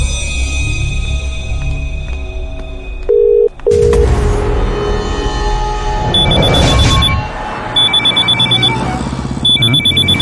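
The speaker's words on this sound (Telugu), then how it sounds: "కొత్త ఫోన్ ఫస్ట్ కాల్ రా." A new phone rings with an incoming call, sharp repeated electronic trill bursts sounding loud and close in a movie scene, preceded by brief dial-like tones.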